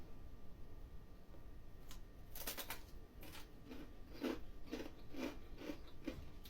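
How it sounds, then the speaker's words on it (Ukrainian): Faint, crisp crunching bites into khvorost fried pastry repeat in a quick irregular series, close up, over a quiet background hiss. "Почули, як хрумтить?"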